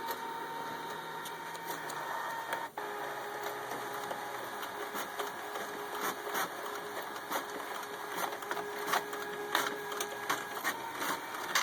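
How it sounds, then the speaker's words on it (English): An HP Officejet 8500A printer runs a color copy through its document feeder, with a continuous mechanical whir broken by rhythmic clicks and clacks of paper handling, close and steady. "we'll do a color copy so that you can see the document feeder works fine"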